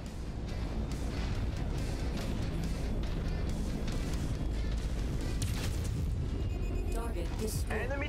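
Muted explosions and battle booms from the mech combat game MechWarrior 5: Mercenaries rumble continuously at a steady level, dense and low without sharp peaks, under game sounds.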